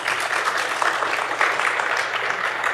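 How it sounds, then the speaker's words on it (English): Audience applause for a group of kids at a panel event, a dense steady wash of many hands clapping throughout, fairly loud with no break. "Big round of applause for these kids."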